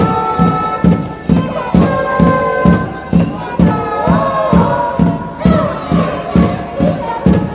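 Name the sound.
stadium crowd at a women's football match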